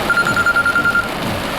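A telephone rings with a rapid warbling electronic trill lasting about a second, heard over rain and background rumble.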